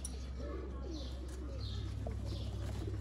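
Teddy pigeons, pink-banded birds from a Lahore rooftop loft, give soft repeated coos with faint chirps, close by over a steady low hum, with no talking.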